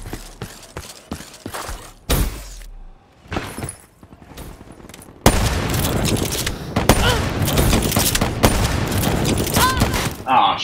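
Rapid gunfire bursts and shots from the Black Ops 3 video game in Gun Game mode, close and loud. Sparse cracks open the clip, then dense, continuous automatic fire and impacts run through the second half.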